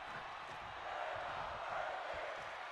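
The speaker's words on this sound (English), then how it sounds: "The crowd cheering these two on!" A video game arena crowd in WWE 2K22 gives off a steady, wide roar of cheering during a wrestling match, dense and continuous but fairly distant.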